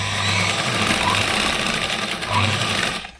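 A sewing machine stitches a sleeve onto a blouse, running in a fast, steady mechanical whir with a rapid needle chatter, close up, before stopping abruptly at the end.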